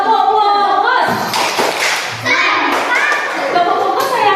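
Teachers and children in a classroom clap the 'tepuk fokus' focus routine, short patterned bursts of hand claps mixed with children's voices and talk, close and loud.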